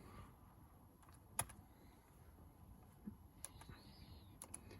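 Keys tapped on a computer keyboard during airbag coding of a Renault Clio with a diagnostic tool, a few faint, quiet clicks with one sharper press standing out over low room noise.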